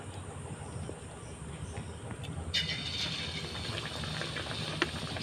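Battered shapla (water lily stem) chops dropped into hot oil, giving a steady broadband hiss of frying that grows brighter and denser partway through, with no talk over it.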